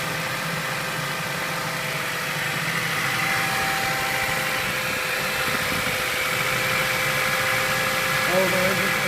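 A 2008 Ford Fusion 2.3 liter four-cylinder engine idles steadily on a wrecking-yard test, a constant mid-pitched drone with slight vibration and no change in speed throughout.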